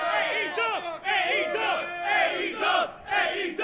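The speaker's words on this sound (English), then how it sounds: "As you can hear, people are pretty pleased with how this show went." Wrestling fans cheer and yell outside the MGM Grand Arena in Las Vegas after AEW Double or Nothing, a dense crowd roar with overlapping shouts and whoops rising and dipping in waves, loud and sustained throughout.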